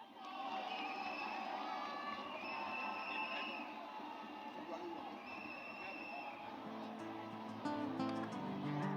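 A crowd at a presidential campaign rally cheers and applauds for the land chiefs, a loud sustained roar of voices, shouts and clapping with a speaker's voice carrying over the din.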